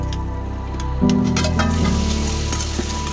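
Gathi kochu (taro) curry sizzles loudly in a pan just after stirring and a splash of water, a brief clatter giving way to a burst of steady bubbling hiss that continues without talk.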